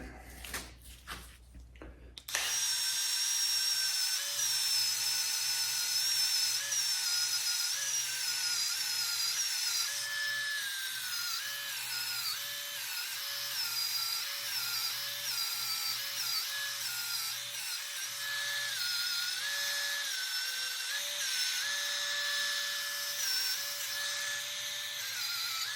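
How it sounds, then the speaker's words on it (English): A 2004 Klein Aura X 58cm bicycle frame being wet-sanded and polished with 3000 grit compound by machine, a steady high whine with wavering pitch that runs on after a brief clatter at the start. "this is the 3000 grit, same compound. So this is kind of like doing it as a wet sand technique"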